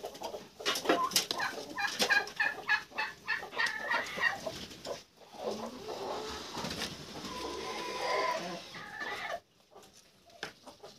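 Brooding turkey hens sitting on eggs in a poultry yard, with goslings and ducklings hatching nearby, give a busy run of close, repeated clucks and squawks that pause briefly, then resume with softer calls.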